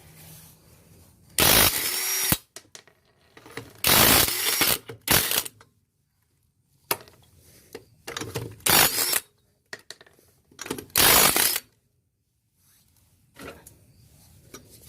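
Tool loosening the lug nuts on a 2007 Chevrolet Cobalt wheel, several loud short bursts of ratcheting and whirring separated by quiet pauses and small clicks, close by.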